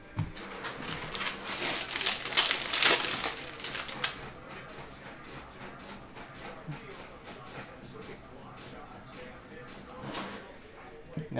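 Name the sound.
ripping open a trading card pack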